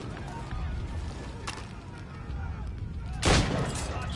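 Grenade explosion in Assassin's Creed Rogue, one sharp loud blast near the end after a smaller pop, over a steady noisy background with a voice talking.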